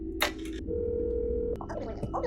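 In the video game That's not my neighbor, on nightmare mode, a telephone gives short button beeps and a steady tone as a number is dialed, with a few clicks after.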